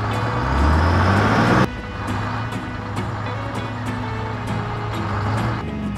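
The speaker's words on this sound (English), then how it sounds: "Dump truck." A dump truck's engine rumbles steadily, rising briefly at first then dropping to a lower idle, with faint repeated clicks over the continuous drone.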